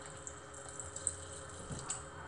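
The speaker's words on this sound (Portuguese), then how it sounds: "Vou colocar água o suficiente só para cobrir isso daqui" Water poured over chopped zucchini in a pot for a cream soup, a quiet steady trickle with faint drips and splashes, close and alone.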